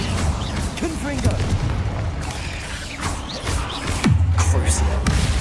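Confringo blasting curse going off in Hogwarts Legacy: muffled booms and bursts of magic effects, with one heavier blast near the end, mixed under a steady game score and a talking voice.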